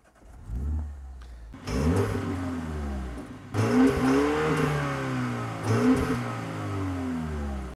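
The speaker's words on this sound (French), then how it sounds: "avec cette clé intégrée là, on peut démarrer la voiture." A BMW X2 M35i engine fires up with its integrated key, catching after a brief crank and settling into a strong idle with a few sharp revs, loud and close with no talking.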